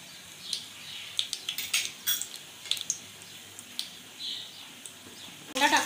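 Whole black peppercorns, cloves and cinnamon pieces are stirred in a pan for chicken dum biryani, giving quiet, irregular metallic clinks and scrapes of a utensil, with a louder rustling burst at the very end.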